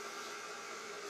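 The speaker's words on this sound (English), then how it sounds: "Got the diesel heater running because it's November and it's cold." A diesel heater runs in a cold barn in November, giving a steady, even rushing hum with no breaks or changes.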